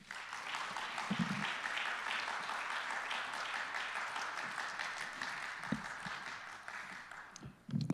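An audience claps steadily in an auditorium to welcome Dr Jonathan Haidt, a sustained wash of many hands that fades near the end.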